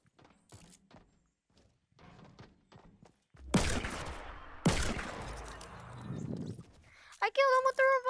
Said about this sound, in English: I killed him with the revolver!